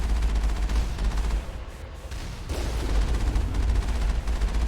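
Turrets firing in Mass Effect 1: dense, continuous rapid bursts of automatic gunfire with heavy low booms, loud and close, briefly easing before the barrage resumes at full strength.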